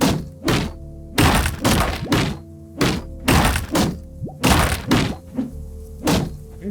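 Wooden barrels of apples smashed apart in the video game Dysplaced, a rapid series of about nine loud, sharp cracking thunks in uneven bursts over a steady low ambient hum.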